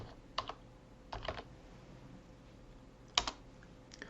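Typing code on a computer keyboard, three short bursts of a few crisp key clicks each, spaced by quiet pauses, close and faint with no talk.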